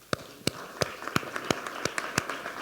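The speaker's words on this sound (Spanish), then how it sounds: "Un aplauso, ¿no?" Applause at a panel discussion on political trends in Spain and Latin America, a few sharp distinct claps at a steady slow rhythm, fairly faint and sparse as if from a small group.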